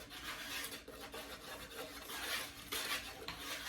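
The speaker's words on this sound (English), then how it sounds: "And so I'm mixing that and just stirring that up." A spoon stirs flour, salt, baking powder and sugar in a bowl, making a soft continuous scraping and rubbing sound with faint clinks, close and quiet, no voices.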